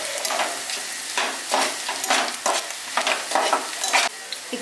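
Chopped onions sizzle in a hot pan while a spatula scrapes and stirs them in repeated bursts, for a paneer butter masala, loud and close.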